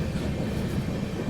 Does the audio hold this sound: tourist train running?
yes